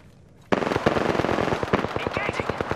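Rapid automatic gunfire erupts suddenly in the battle royale game Apex Legends, a loud, sustained burst of closely spaced shots after a brief quiet start.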